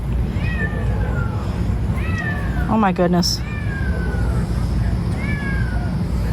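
A kitten meows repeatedly in a backyard, three or four thin, drawn-out cries at moderate distance, with a person speaking briefly in between.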